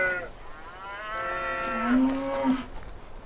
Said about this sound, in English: cows are in the road again